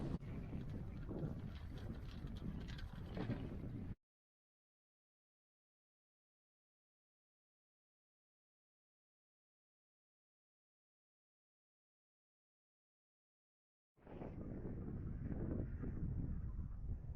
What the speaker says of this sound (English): as you can see, the wind is still blowing.